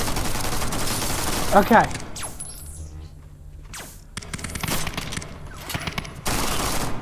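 Robot gun fire in the VR shooter Wanted Killer, a short burst of loud rapid shots followed by scattered blasts and mechanical clatter, with a brief spoken word.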